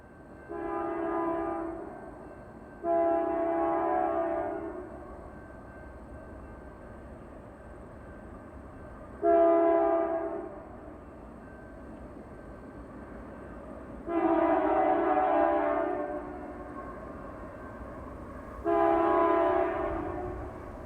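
GE AC44CW locomotives lead a freight train with a GP38-2 at Rockford, Minnesota, sounding five loud, sustained horn blasts of about two seconds each in an irregular pattern over a steady rumble of passing cars.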